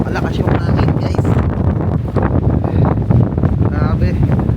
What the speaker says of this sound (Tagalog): ganun kalakas yung hangin guys